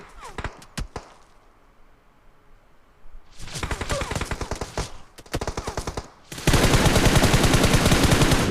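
Bursts of rapid automatic machine gun fire in PUBG Mobile, loud and close, separated by short pauses, ending in a sustained dense volley.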